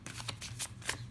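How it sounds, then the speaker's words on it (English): A tarot card deck being shuffled by hand close up, a quick series of riffling, flapping bursts in an even rhythm. "get this shuffled up."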